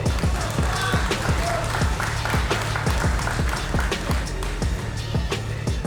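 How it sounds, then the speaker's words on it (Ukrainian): Audience applause fills a fist fight event, with dense, steady clapping from a crowd continuing loudly throughout. "Ваші оплески Кондрату!"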